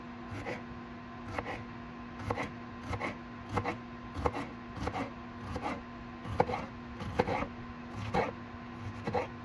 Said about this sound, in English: And then we're gonna slice our jalapenos